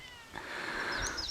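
A cat meows outdoors near woods, one drawn-out rising and falling cry close to the microphone, standing alone over faint background hiss.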